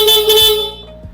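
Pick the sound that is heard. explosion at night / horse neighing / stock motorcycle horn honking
stock motorcycle horn honking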